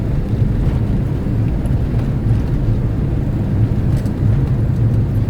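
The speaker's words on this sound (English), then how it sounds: "that has been a short, entertaining drive in a Citroen C15" A Citroen C15 van being driven, giving a steady, loud low engine drone with road and wind rumble throughout and no talking.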